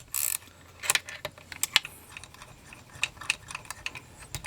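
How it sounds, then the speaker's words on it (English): Ratchet wrench loosening 5/16 bolts on a Homelite XL-101 chainsaw's Walbro SDC carburetor, quick faint clicking ratchet strokes in short irregular bursts, close and quiet with a brief louder rattle at the start. "I'm going to try this ratchet wrench out to see if that'll get things loosened up."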